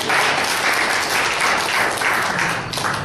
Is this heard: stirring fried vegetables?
no